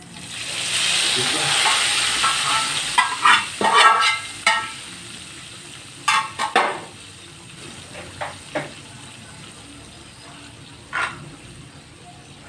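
Hot desi ghee tempering is poured over kadhi pakora, giving a bright sizzling hiss that swells and then fades, followed by scattered clinks and taps. A voice briefly speaks.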